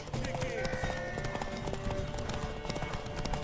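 Steady clip-clop of horse hooves in The Witcher 3 under busy game sound effects and a music bed, continuous and fairly loud throughout.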